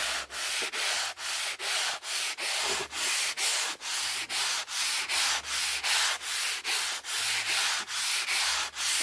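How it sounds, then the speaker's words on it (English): Light rhythmic sanding with a sanding block along the wood grain before polyurethane, a steady back-and-forth scratchy rubbing repeated about twenty times at an even pace, close up with no talking. "So I'll just go ahead and give it a little light sanding."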